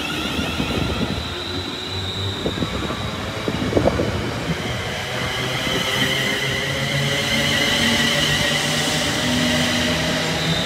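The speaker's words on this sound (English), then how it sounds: "The 1420 London North Western Railway service from Crewe to London Euston, 35104 to lead the train." Steam locomotive 35104 hauls a train through Tamworth station, a steady rumbling roll of wheels and carriages building over about ten seconds with clanks and brief squeals, moderately loud and close, with no voices.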